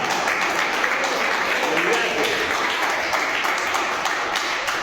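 A church congregation applauds during a sermon, producing dense, steady clapping that fills the room evenly for several seconds.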